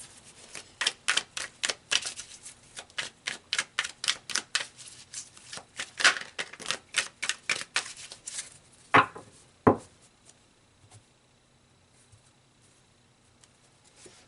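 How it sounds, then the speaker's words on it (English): Tarot cards are shuffled in quick rhythmic riffles, a long run of crisp close flicks and taps that ends with two louder slaps as cards are pulled, followed by near silence. "let's pull some more cards"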